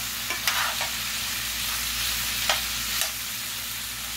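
Cajun pork and sausage jambalaya browning at the bottom of the pot gives a steady close sizzle, broken by a few sharp scraping stirs.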